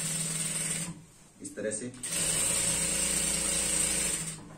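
A sewing machine stitching a salwar seam runs in a steady mechanical whir, pauses briefly while a person speaks, then resumes a loud continuous stitching drone.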